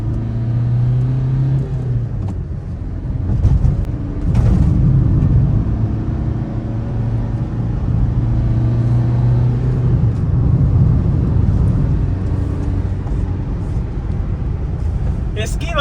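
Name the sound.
Maruti Suzuki Ritz diesel car engine revving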